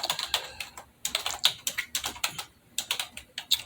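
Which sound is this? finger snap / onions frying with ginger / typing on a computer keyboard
typing on a computer keyboard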